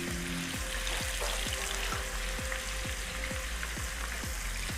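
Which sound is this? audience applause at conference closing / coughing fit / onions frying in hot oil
onions frying in hot oil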